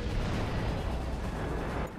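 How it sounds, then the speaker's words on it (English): Dense, continuous rumbling barrage of artillery fire and explosions in the World of Tanks game, loud and sustained without clear separate blasts, easing slightly at the very end. "The artillery is targeting me."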